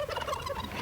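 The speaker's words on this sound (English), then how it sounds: "by pardoning 2 turkeys named Chocolate and Chip" Turkeys gobble in a continuous, moderately faint stretch at the White House turkey pardon ceremony, with no talk over them.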